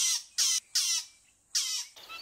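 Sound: fork-tailed drongo call

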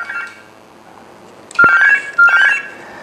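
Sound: Gigaset cordless phone ringing with an incoming call

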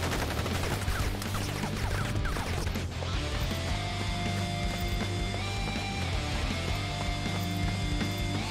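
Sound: gunfire in the video game Crisis Core: Final Fantasy VII Reunion

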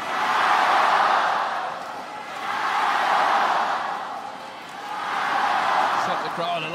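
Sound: badminton crowd cheering after a shot

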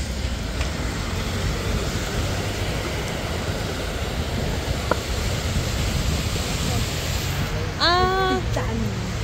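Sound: flowing river, Chocolate River

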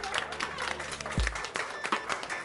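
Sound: audience clapping

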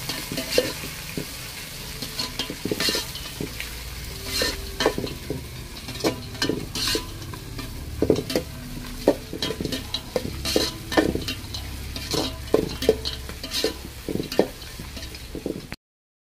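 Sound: onions and green chillies frying in oil

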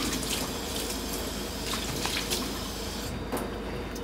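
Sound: rinsing a horse mackerel under running water

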